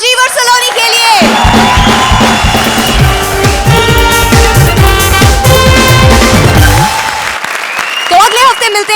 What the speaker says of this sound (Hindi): तो एक आखिरी बार जोरदार तालियां राजीव और सलोनी के लिए